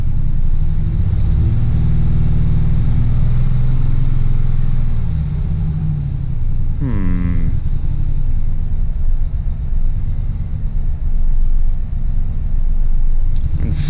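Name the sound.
Chevrolet Silverado truck engine running rough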